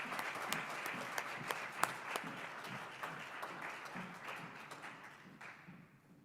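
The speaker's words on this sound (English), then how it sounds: "Please give Kylie a round of applause." Steady applause fills a hall at a student award ceremony, moderate and somewhat distant, with distinct individual claps standing out before it fades at the end.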